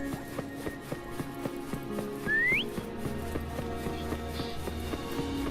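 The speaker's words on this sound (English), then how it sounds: "Try whistling." A single rising whistle, short and clear, in the video game Wuthering Waves, set over steady game music and light rhythmic hoofbeat-like taps.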